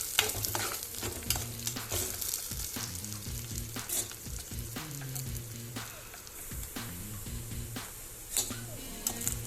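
Eggs frying in a pan for egg fried rice, a busy close sizzle with frequent spatula scrapes and taps against the pan throughout, no talking.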